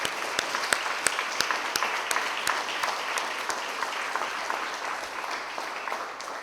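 Applause from a peace conference audience honoring peace builders, a dense, even wash of many hands clapping with a few sharp individual claps standing out near the front.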